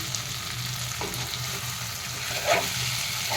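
Eggplant pieces fry in a covered pan, giving a steady, close sizzle with a brief louder crackle near the end and no talking.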